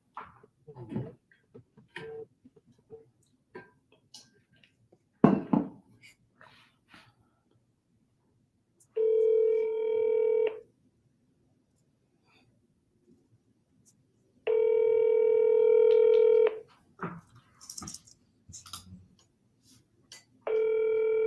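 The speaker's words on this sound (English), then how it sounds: "Let me get a quick call here." A telephone ringback tone during an outgoing call, long steady electronic tones repeating with silent gaps, mixed with faint handling clicks and brief background noises.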